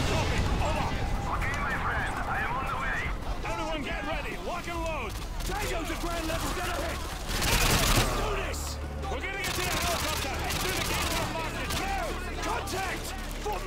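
Full-auto gunfire in the shooter Modern Warfare, militia fight around houses with exploding red barrels, rattling in dense sustained bursts beneath continuous overlapping talk, with a louder crack of fire near the middle.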